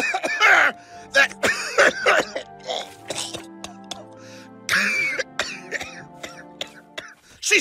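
A voice imitating coughing and gurgling in a cartoon setting, with several loud, harsh bursts followed by throaty, wet gurgling sounds and short pauses between them.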